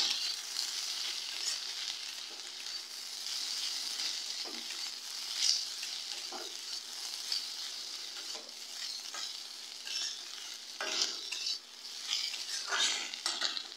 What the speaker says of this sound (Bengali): পনিরটা দিয়ে সামান্য নাড়াচাড়া করে নিয়ে নামিয়ে নেব